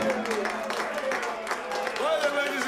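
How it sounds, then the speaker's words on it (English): A 1970s television studio audience claps for a departing performer at a Christmas special, moderate applause running beneath a voice and faint background music. "Give her a clap."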